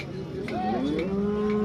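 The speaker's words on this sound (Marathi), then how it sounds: "एकदम मोठ्या मापाची गाय" A single large cow at the Modnimb cattle market moos nearby, a low drawn-out call rising and holding, with faint background murmur.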